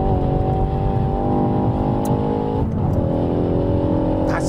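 A hot hatchback lapping a race track gives a loud, continuous engine drone from inside the car, steady throughout with slight shifts in pitch.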